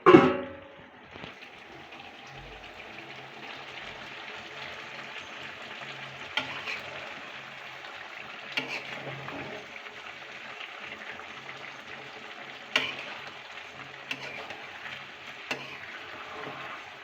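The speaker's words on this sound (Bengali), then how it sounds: "আর এদিকে আমি চুলায় বসাই দিছি তরকারিটা হোক।" Curry simmering and frying in a pan on a stove gives a steady, soft sizzle throughout, with occasional faint clicks and stirring knocks, moderately close and with no voices.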